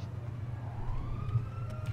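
An emergency vehicle siren in GTA 5, a rising wail that swells gradually over a steady low engine and traffic rumble, moderately distant.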